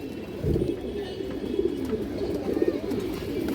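Large female pigeons with black tails coo in soft, low, repeated throaty phrases, close by and alone.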